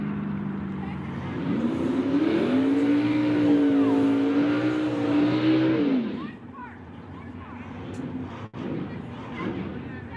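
Fuel altered drag race car, the Mr. Twister, running down the strip at Tucson Dragway, a loud rising engine howl that holds for several seconds then fades away, with crowd and track ambience afterward.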